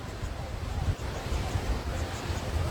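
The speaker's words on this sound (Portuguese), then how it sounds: "você vai ouvir as ondas quebrando" Ocean waves breaking on a shore mixed with steady wind and microphone wind noise, a continuous broadband rumble and wash throughout with no distinct individual wave crashes.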